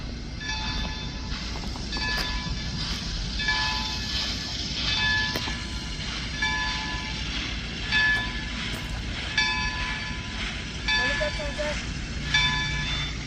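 A steam locomotive backs slowly toward its two coaches at a railway heritage site, with continuous rail rumble, periodic hissing and metallic clanks, and people talking nearby.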